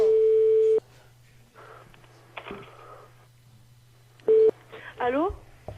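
Telephone tones from an outgoing call: a loud steady tone cuts off, then quieter line noise, a short repeat of the tone, and a garbled voice on the line under a constant low hum.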